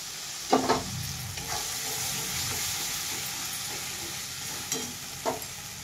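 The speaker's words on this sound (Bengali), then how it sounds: "একটুকু ভাজবো, বেশি ভাজবো না" Poppy seed paste with rohu fish curry sizzles in a pan, a continuous moderate frying hiss with a few sharper stirring scrapes near the start and end.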